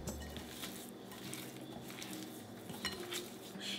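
Sugar being stirred into a bowl with a utensil, soft steady scraping and faint clinks of metal against the dish close by, no speech.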